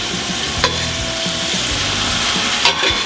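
Beef sears hard in a hot pan for a bolognese, a loud close sizzle with crackling spatters and a couple of sharper pops, steady and without speech.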